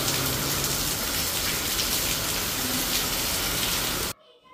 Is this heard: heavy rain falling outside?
yes